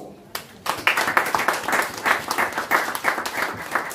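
A church congregation breaks into applause during a French-language sermon, a sustained burst of clapping from many hands filling the room for several seconds after a quiet start.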